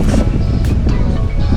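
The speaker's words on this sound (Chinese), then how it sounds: "那风很大" Strong wind rushes and buffets across the microphone on the coastal Alangyi Trail in Taiwan after the descent from a summit begins. There is a loud, continuous low rumble with brief gusty swells and no voices.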